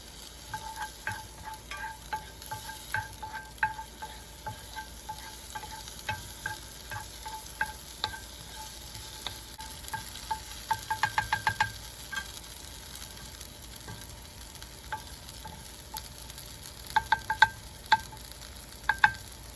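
Garlic, onions and green onions frying in a pan for spicy jalapeño garlic shrimp, with a constant low sizzle under repeated light tapping and scraping of a utensil, including a quick cluster of strokes near the middle and end.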